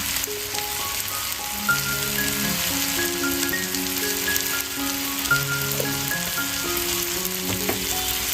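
Spices for a beet and carrot curry sizzle and crackle steadily in a hot pan, a dense, even frying hiss heard up close with a faint melodic tone running beneath.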